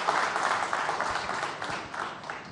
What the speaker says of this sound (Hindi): जितिन भाई, तालियां तो बहुत बज रही हैं